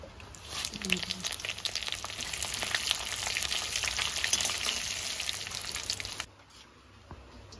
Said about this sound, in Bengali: জিরে তেজপাতা ভাজা হয়ে গেছে